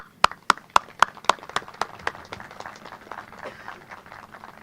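Applause and clapping at an outdoor dedication ceremony for a memorial park playground: a few loud, sharp claps that soften into a steadier patter of many hands, fading over several seconds.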